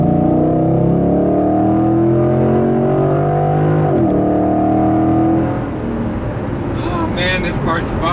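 A 2010 Mustang GT Premium is driven hard around a corner: the engine loudly revs up through rising harmonic sweeps, drops briefly midway, then climbs again before giving way to rougher road and engine roar, heard from inside the car.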